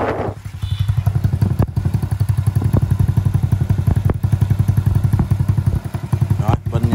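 A Honda Dream motorcycle with a small exhaust idles close by, its engine giving a steady rapid thumping putter with light mechanical clatter, and someone talks over it.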